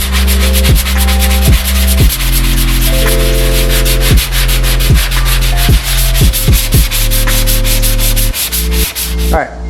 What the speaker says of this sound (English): I'm gonna sand it down using the sanding block